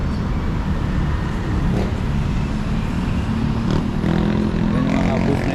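Buses and traffic on EDSA near Ortigas in Metro Manila, a continuous, loud roadside roar of engines and tyres with passing vehicles swelling and fading, heard close from the street edge.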